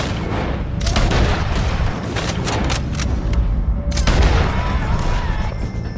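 Gunfire in Red Dead Redemption 2 during a shootout with O'Driscolls: loud, close shots in irregular clusters over a dense rumble of battle, with several sharp cracks standing out.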